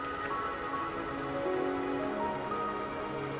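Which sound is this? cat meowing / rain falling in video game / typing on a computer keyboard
rain falling in video game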